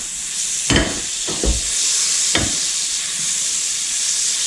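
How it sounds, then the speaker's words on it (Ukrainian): Butter sizzles and crackles in a small pot, a steady bright hiss with a few sharper spits and clatters early on, close and fairly loud with no voices. "Беру казанок і відправляю масло в казанок"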